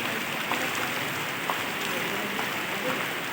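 Steady rain falls on surfaces in a dense, even hiss with scattered drop patters, and soft speech sits faintly underneath.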